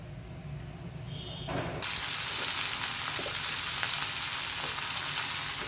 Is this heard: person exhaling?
no